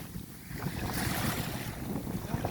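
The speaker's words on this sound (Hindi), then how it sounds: "इसकी लहरें आके पैरों तक आ रही हैं।" Sea waves wash ashore on the beach at the Al Khobar corniche in Saudi Arabia, a steady rushing surf mixed with wind noise, with no voices.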